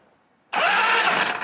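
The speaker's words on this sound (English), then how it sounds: "it's turning the starter motor, and it sounds like it wants to go" Starter motor cranking an Ironhead motorcycle engine, a loud sudden whirring grind that kicks in after a faint hum and runs steadily to the end.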